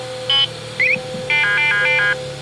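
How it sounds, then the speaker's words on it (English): A radar detector in a Kia Optima sounds a quick series of sharp electronic beeps and chirps in short bursts over a low steady cabin hum. "That's our radar detector if anybody's wondering what the noise is."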